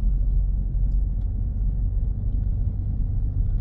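Steady low rumble of a car driving, continuous and fairly loud throughout with no talking.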